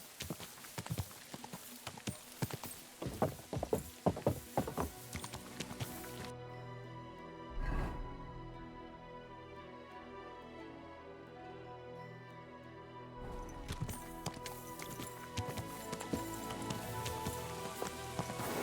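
Rhythmic horse hoof clip-clops at a trot in the video game Kingdom Come: Deliverance II, then a quiet pause with a single thud, before the hooves resume, moderately loud and close.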